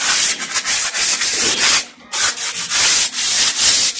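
Close, steady sanding of a painted table on a rooftop garden, with continuous rasping strokes in a quick back-and-forth rhythm and a brief pause near the middle.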